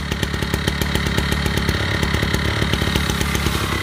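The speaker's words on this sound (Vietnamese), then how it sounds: "tiếng máy nổ rất là nhuyễn nha" Small Japanese engine idling steadily and evenly, a dense, continuous mechanical drone with fine rapid firing pulses, close and fairly loud with no talking.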